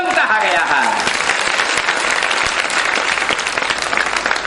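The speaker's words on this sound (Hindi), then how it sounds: "आप तो केवल ताली बजाने के लिए बोलते हो, हम ताली की भूख नहीं रखते" An audience at a Hindi religious sermon in Vidisha claps steadily and loudly throughout, a dense, sustained round of applause.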